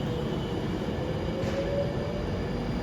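Class 390 train 390-118 bound for London Euston at Warrington Bank Quay, a steady rumbling rail drone with a faint wheel squeal, continuous and fairly near.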